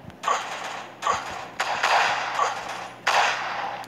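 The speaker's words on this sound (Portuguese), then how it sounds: "Da onde que tá vindo esse tiro?" Gunfire in a mobile anti-terrorist SWAT sniper shooter game: four sharp, loud shots with short echoing tails, spaced unevenly about a second apart, with no talking.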